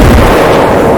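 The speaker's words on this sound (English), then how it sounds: "an explosion is heard on the Sultana" Explosion aboard the overloaded steamboat Sultana, a single loud, dense, sustained blast that fills the whole moment with rumbling low-end roar.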